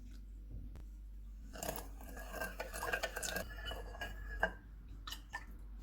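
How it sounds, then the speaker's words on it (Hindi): A spoon stirs sugar and water together in a bowl, giving soft scraping and clinking strokes that come in uneven bursts near the microphone, with no talking. "एक बाउल में चीनी डालेंगे, पानी डालेंगे और इसको मिक्स करेंगे।"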